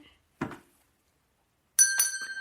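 A bell in a museum is struck once after a soft tap. It rings with a bright, clear metallic tone that lingers and slowly fades.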